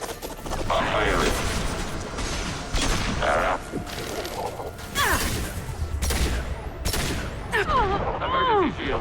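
Bursts of gunfire and impacts in the video game Mass Effect Legendary Edition, loud rattling volleys and crashes layered with game effects, repeating in waves over several seconds.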